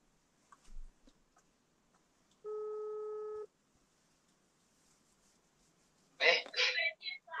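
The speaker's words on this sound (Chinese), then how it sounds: "打电话问他一下" A single electronic telephone ringback tone sounds for about a second as a call is placed, clean and steady in a quiet room, followed later by a brief burst of voice.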